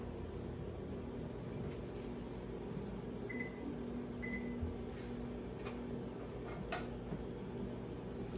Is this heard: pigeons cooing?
no